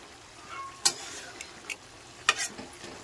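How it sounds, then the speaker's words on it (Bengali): A pan of pumpkin-green curry with morla fish is stirred with a few distinct scrapes and clinks against the pan, quiet and close, with soft cooking noise in between. "আবারও আমি খুলে নেড়ে দেবো তরকারিটা"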